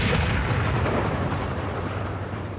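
Loud blasts of gunfire and explosions from a James Bond film action scene, a dense rumbling barrage lasting a couple of seconds with no speech over it.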